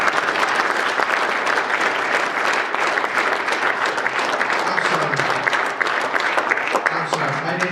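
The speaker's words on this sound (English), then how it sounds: "let's do a little round of applause for a nice message" Congregation applauding at a Sunday morning church men's retreat service, steady dense clapping from a crowd filling the room throughout, with a few voices calling out underneath.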